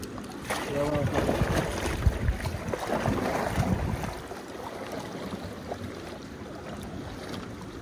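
A single-blade paddle works a Placid Boatworks Shadow boat along a shoreline, with soft splashing strokes and water movement under steady wind noise, louder in the first half and quieter later.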